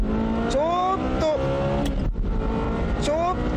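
A Honda NSX and a Ferrari accelerate hard in a drag race, engines roaring loudly with rising gear-by-gear pitch sweeps, while a commentator talks over the engine noise throughout.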